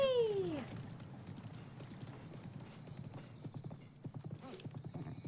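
Hooves clip-clop steadily as a horse runs in the video game Breath of the Wild, with a neigh near the start, game music and effects underneath, and a person speaking briefly.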